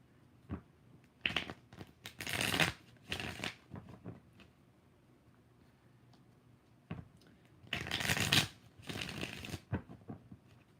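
Tarot cards are shuffled by hand in several separate bursts of crisp riffling and flapping, close up and fairly quiet, with pauses between each round.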